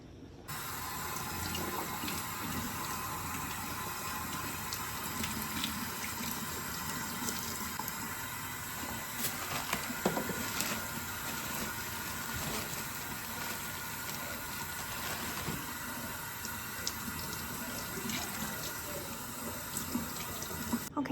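Tap water runs steadily into a kitchen sink as carrots and other vegetables for turkey broth are rinsed, a continuous splashing hiss with faint clinks, close and unbroken for the whole stretch.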